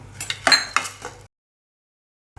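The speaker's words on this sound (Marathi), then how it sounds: "कढईतील पाण्याला चांगली उकळी फुटली आहे। आपण आता यामध्ये ही ज्वारी टाकूया।" Sorghum (jowar) grains tipped into boiling water in a kadhai make a quick run of clinking, rattling bursts against the metal. The sound lasts about a second and then drops to silence.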